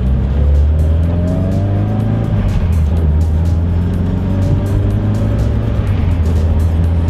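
A Mitsubishi Evo fitted with a twin disc clutch drives under load, a loud, steady engine drone heard from inside the car with a rising tone as it pulls through the gears, and no voices.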